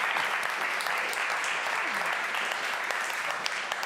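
Audience applause closing an experience marketing awards show, a dense, steady wash of clapping sustained throughout at even loudness.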